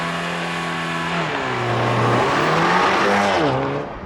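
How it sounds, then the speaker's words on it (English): A 2023 Porsche Macan T with a 2-liter turbo four-cylinder launches hard under launch control, its engine revving loud and close with rising, shifting pitch and tire noise throughout. "'23 Porsche Macan T. With launch control."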